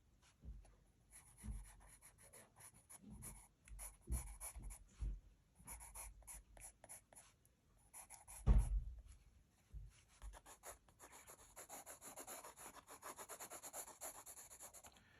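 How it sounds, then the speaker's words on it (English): A pencil draws fine detail lines on a portrait: soft, close scratching strokes in quick irregular bursts, faint and with no voices. "I'm drawing lines with fine detail"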